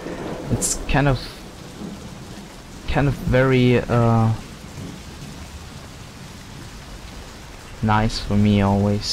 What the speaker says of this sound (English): I love the rain levels, you know? The levels where rain's dropping down everywhere around you.